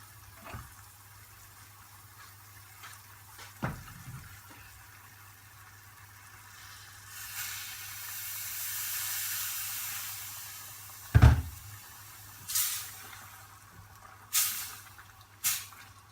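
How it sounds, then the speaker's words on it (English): About half a pint of water poured into a pan of simmering fruity chicken curry swells into a soft hissing rush, followed by a sharp splash and several short clatters near the end. "Now what we'll add in is the water, roughly about half a pint of water"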